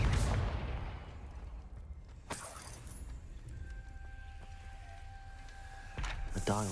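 A Confringo blasting spell fired in Hogwarts Legacy, a sharp burst at the start followed by a second crack midway, with a sustained magical tone and another blast near the end.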